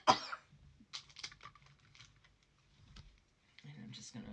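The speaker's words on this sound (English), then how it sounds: "I am so sorry about this cough." A single sharp cough bursts out near at the start in a quiet indoor space, followed by faint clicks and light tapping from crafting work.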